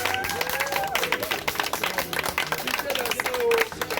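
A church congregation at an evangelism service claps together in praise of the Lord, a dense, steady wash of applause and crowd noise with voices mixed in.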